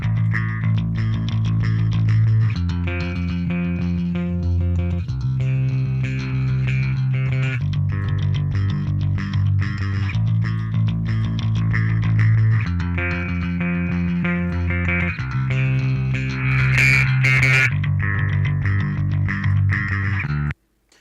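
A steady bass line run through a JST Billy Decker Bus Glue compression plugin repeats a looping pattern of low notes, evenly compressed and consistent in level, playing alone for about twenty seconds.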